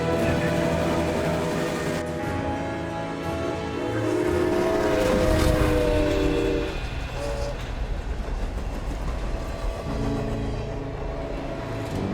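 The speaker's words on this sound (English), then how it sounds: "The Canadian Pacific Hudsons were known to be incredibly reliable locomotives." A Canadian Pacific Hudson steam locomotive and its train running, a loud continuous rumble and roar with rail clatter that swells in the middle and holds steady throughout, close by with no voices.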